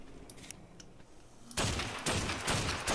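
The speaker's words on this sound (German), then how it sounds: "jetzt testen wir noch das Sniper Rifle." Sniper rifle firing in the video game ARK: after a quiet stretch, loud sharp gunshot bursts hit at about 1.5 seconds and again at about 2 and 2.8 seconds, close and dominant.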